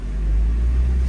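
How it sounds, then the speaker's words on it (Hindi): A Mahindra Scorpio in first gear labors uphill in traffic with a clutch problem, its engine giving a loud, steady, deep rumbling drone close by, with no talking. "पूरी बबलिंग सी ले रही है गाड़ी"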